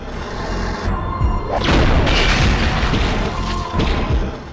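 Demolition explosions in the N64 game Blast Corps come as loud booming blasts with crashing, rumbling debris. The roar swells and lingers over several seconds, then trails into further thuds.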